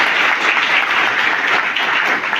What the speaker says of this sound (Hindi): हम सब जोरदार तालियों से उनका स्वागत,